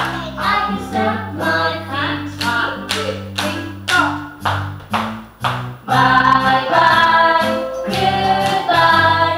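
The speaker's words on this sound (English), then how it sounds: "Clap, clap, clap, clap, clap" Hand claps keep time with a sung tune over musical backing, crisp and close, pausing briefly before the music swells fuller, with singing throughout.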